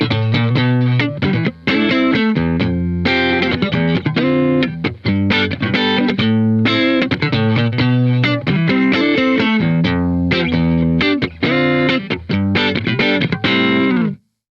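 Funky electric guitar with crisp rhythmic chords and stabs, played through an amp with 6V6 power-tube voicing into Celestion speakers, driven and slightly distorted, loud and continuous, ending abruptly.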